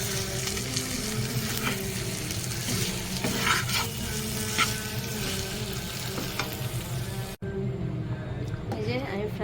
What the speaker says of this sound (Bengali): এখানে ফ্রাই প্যানটা ব্যবহার করেছি যাতে এটা ভালোভাবে ভাজতে পারি।